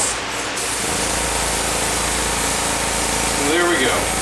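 A steady, broad hiss of a spray paint can spraying runs continuously up close, with a faint mechanical hum underneath.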